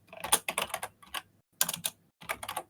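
Rapid bursts of computer keyboard typing come in three clusters of quick, close, fairly loud keystrokes separated by short pauses, with no talk.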